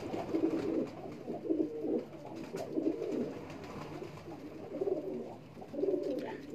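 Pigeons, a black cross-bred flock, coo in soft repeated low bursts roughly every second, fairly faint and close, with steady background noise and no voices over them.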